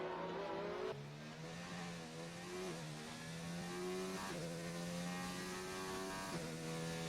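A McLaren race car in a racing video game pulls out onto a wet Monaco circuit, its engine note climbing steadily through several gear shifts, a clear, continuous rising whine with no voices.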